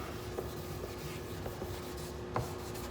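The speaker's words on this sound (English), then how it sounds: "Just literally scuffing it up so that way the primer and paint adhere best as possible." Hand sanding to scuff the plastic front lip of a BMW 335 before primer and paint, a soft continuous rubbing scratch with faint periodic strokes, close and fairly quiet, with no talk.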